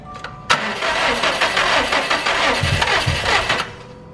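Subaru STI engine cranking in one sustained burst of about three seconds after a sharp start, close and loud, with a little talk and clatter around it.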